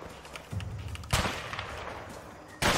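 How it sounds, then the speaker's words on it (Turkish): Gunfire volley in a prison escape video game, a burst of low rumbling shots followed by a sharp loud blast midway and another at the end. "Yaylım ateşi açtım."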